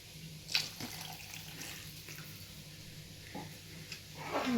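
Water runs and splashes softly into a cooking pot for wheat rava upma, a quiet continuous trickle with a few light clinks.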